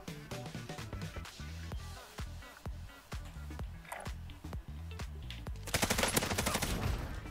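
Bruen MK9 machine gun in the video game Warzone firing in rapid sustained bursts, loud and close, with a rattling rhythmic pulse that swells louder near the end.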